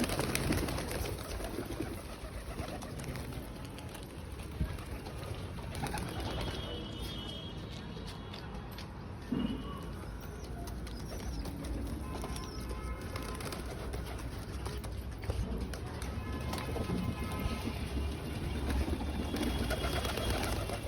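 Pet pigeons at home coo in low soft repeated calls throughout, close and steady over a hissy background with faint distant noise, without clear speech.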